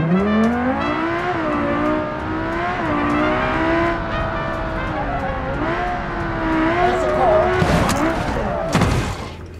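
A video game car engine revs and drones with shifting pitch as the vehicle pulls away, followed by sharp tire squeals and skids near the end, loud and close with a voice talking over it.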